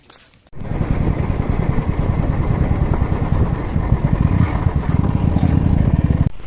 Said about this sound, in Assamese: যাম বাইকত